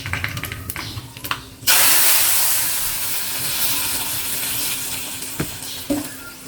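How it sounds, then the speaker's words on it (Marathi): Fenugreek seeds, curry leaves and cumin tempering in hot oil for sambar; a few sharp clicks, then a sudden loud burst of crackling sizzle that stays steady and close, with occasional pops. "थोडी छान तडतडलेली आहे।"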